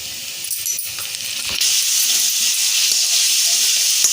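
Paste of ginger, garlic and dried chili frying in hot oil, giving a loud, steady sizzle and hiss that swells after a few light clinks of stirring.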